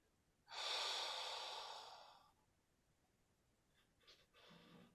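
A voice imitates slow, labored breathing: one long, airy exhale lasting nearly two seconds, then quieter, shorter breaths, close and soft with no talk over it.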